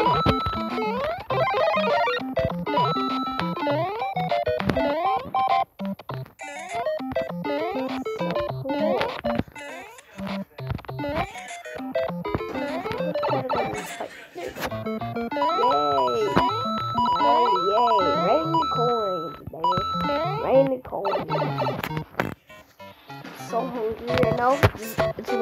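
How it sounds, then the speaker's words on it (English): Mario video game played on a phone speaker: tinny chiptune music with bouncing melodic blips and jump and coin effects, playing continuously with brief pauses and some background voices. "Playing Mario on a phone."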